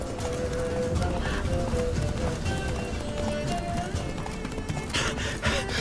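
A horse gallops in The Witcher 3: Wild Hunt, Blood and Wine, with a rapid run of hoofbeats under game sound and music, and a brief whinny, moderately loud throughout.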